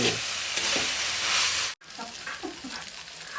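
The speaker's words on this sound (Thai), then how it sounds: "เริ่มด้วยตั้งน้ำมันผัดกระเทียมกับพริกแห้งที่โขลกไว้ครับ" Garlic and pounded dried chilies fry in hot oil for a Thai vegetarian basil stir-fry, giving a loud, steady sizzle that cuts off abruptly, then returns quieter with scattered stirring scrapes and spatters.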